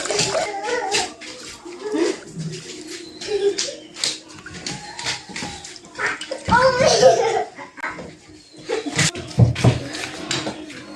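Leaves and chillies being washed by hand in a vessel of water, with intermittent splashes and sloshing in irregular bursts, close by, while a dog whimpers and howls now and then.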